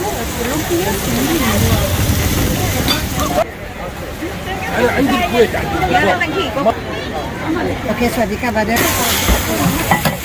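Pad Thai spicy noodles cooking at a busy Thai food stall in an outdoor market, a steady sizzling hiss under constant crowd chatter and nearby voices.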